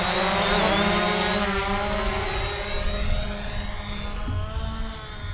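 A Hubsan Zino drone's motors at full throttle, a loud, close high-pitched whine with shifting harmonic tones that sweep and waver as the drone sinks, continuous and alone.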